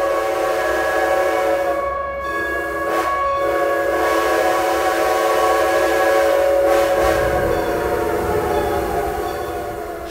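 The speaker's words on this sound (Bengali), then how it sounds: "কিয়েভগামী যাত্রীবাহী ট্রেনটার অতি সুন্দর এস ইঞ্জিনটির গভীর স্বরের রিনরিনে আওয়াজ বেজে উঠল" The steam locomotive of a passenger train bound for Kiev sounds a long, deep, sustained whistle over steady rumbling rail noise, loud and continuous for the whole stretch.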